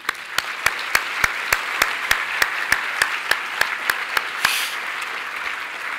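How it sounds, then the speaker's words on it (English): A large audience at a charity summit applauds for a woman and her family, producing a sustained wash of clapping punctuated by regular, evenly spaced sharp beats, as if one clapper stands close by. "she and Grant and their family deserve another huge round of applause"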